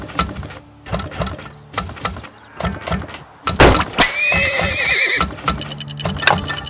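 A horse neighs loudly in the Turmoil video game, a shrill whinny in the middle of rhythmic clip-clopping hooves and clunky mechanical game sounds, with no talk.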